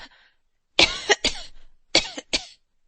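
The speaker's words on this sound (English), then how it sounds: "was affected with a cough in her throat" A narrator reading Hard Times gives a few dry coughs and throat clears in two close pairs, near and clear with short silences between.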